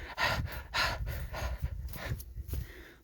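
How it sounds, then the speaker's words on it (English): Heavy breathing from a person hiking through brushy woods among tall trees: several loud, ragged gasping breaths close to the microphone in an uneven rhythm, with no talking. "You can hear me breathing."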